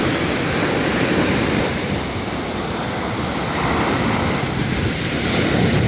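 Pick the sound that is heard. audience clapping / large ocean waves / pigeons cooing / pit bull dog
large ocean waves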